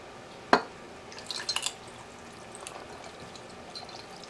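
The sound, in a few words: pouring brine over feta cheese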